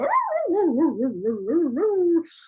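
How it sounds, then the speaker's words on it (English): A single dog gives a drawn-out, wavering howl-bark that rises and falls in pitch for about two seconds, loud and close, with no talk over it. "oh, dogs barking."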